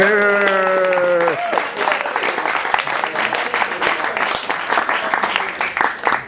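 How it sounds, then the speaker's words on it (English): Guests at a Wine Media Guild dinner applaud warmly after a sustained musical tone cuts off, the clapping building into a steady, crowded patter that carries to the end. "A little round of applause for Jerry."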